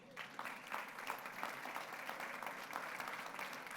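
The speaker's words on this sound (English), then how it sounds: "Please give a round of applause to our soccer girls team" Board meeting audience applauding a girls' soccer team of all-district selections, a continuous soft wash of clapping heard from some distance at low volume.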